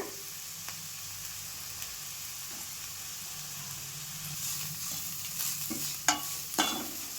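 Garlic sizzles in hot oil alongside onions in a pan for a dill-greens and lentil palya, a steady close frying hiss with a few stirring scrapes and clinks toward the end, no voices.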